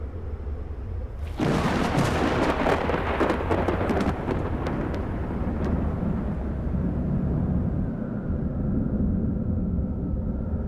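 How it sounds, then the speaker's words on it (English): A loud crack of thunder breaks out of a quiet hum and rolls into a long, heavy rumble that slowly fades, like a storm passing overhead in the Kalahari. "Dark clouds gather over the Kalahari. A storm is brewing."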